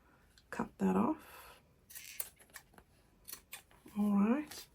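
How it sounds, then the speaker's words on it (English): Scissors snip through corset fabric while a tuck spot is trimmed, giving a few short, close cutting sounds in bursts between spells of a person talking. "And then my scissors, cut that off."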